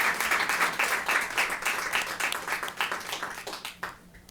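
An audience at an education night event applauds its honorees with dense, full clapping that gradually thins out and fades near the end.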